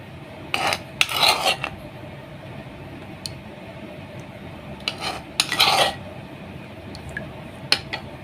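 Homemade yogurt being spooned into a pot for lassi, with a few short scraping clinks of a spoon against metal in separate bursts over quiet background, no talking.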